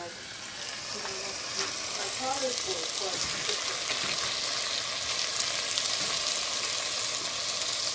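Chicken pieces fry in a very hot wok for three cups chicken, giving a dense, continuous sizzle and crackle that stays loud throughout, with a few brief clatters near the start.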